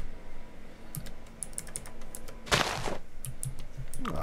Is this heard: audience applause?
no